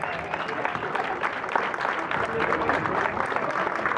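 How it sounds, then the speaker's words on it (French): Audience applause at a tattoo convention's large-piece contest, many hands clapping in a dense, steady stream, moderately loud with faint crowd murmur underneath. "On peut l'applaudir, s'il vous plaît."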